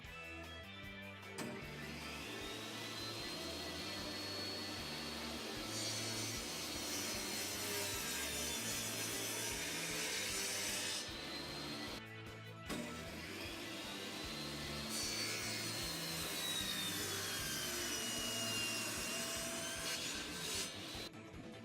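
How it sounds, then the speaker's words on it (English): A hand saw cuts steadily through two wooden pieces clamped together, with long rhythmic rasping strokes close by, briefly pausing midway before resuming. "I'm going to try cutting both of them at the same time"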